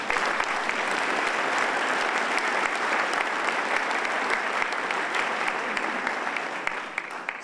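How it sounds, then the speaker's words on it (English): An audience at a mayor's event bursts into sustained applause for the sponsors, with dense, even clapping that holds steady and fades slightly near the end. "So if you wouldn't mind, just give them a quick round of applause."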